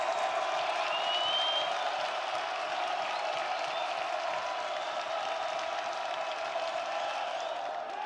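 A large, hostile baseball crowd roars steadily in a broad, sustained wash of cheering and noise throughout, heard at a distance in a stadium.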